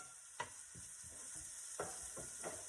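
Garlic and chives fry in a pan for an omelette, a steady soft sizzle with several distinct scraping stirs of a utensil at irregular intervals, close and fairly quiet.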